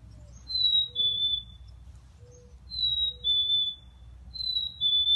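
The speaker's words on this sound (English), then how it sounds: "Let's see if we can hear a real chickadee sing." Black-capped chickadee singing outdoors: a clear, whistled two-note song, high then slightly lower, repeated three times at a moderate distance over a low steady background rumble, with no voices.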